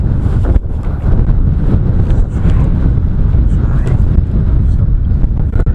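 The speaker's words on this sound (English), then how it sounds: "It's like a gale coming in from the east here on Head on the Peninsula." Strong easterly gale buffets the microphone on a coastal headland at Burrow Head, in a constant low roar, with faint voices partly buried beneath it.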